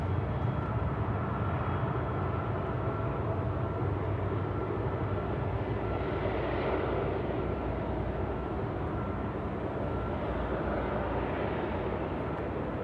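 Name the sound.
Emirates A380 airliner taxiing to the terminal at Sydney Airport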